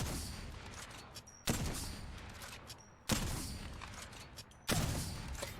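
Sentinel rifle from Apex Legends fired from the hip, three loud, sharp shots spaced about a second and a half apart, each with a heavy boom and a long decaying tail.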